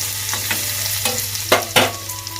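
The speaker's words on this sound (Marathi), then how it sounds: "इकडे कढईमध्ये तेल घालून घेतलंय आणि आता आपल्याला फोडणी द्यायचंय" Cumin and garlic paste hit hot oil in a kadai for a tempering, crackling in a loud, close, continuous sizzle with a few sharper spattering pops.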